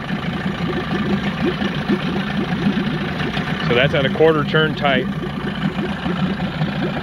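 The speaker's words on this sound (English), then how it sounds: "It is idling." An outboard boat motor idles steadily after a carburetor adjustment, a continuous low rumble running beneath a man's speech for the whole stretch.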